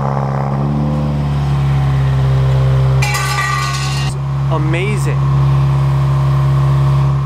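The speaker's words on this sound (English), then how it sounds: "I've never heard a WRX that sounds like that with this exhaust." A Subaru WRX with a custom exhaust idles with a steady low drone throughout, while a person speaks briefly over it and some clinking and other handling noises come and go in the middle.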